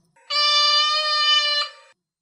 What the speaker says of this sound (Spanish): Pero la señora Dennison miró al gato y el animal lanzó un chillido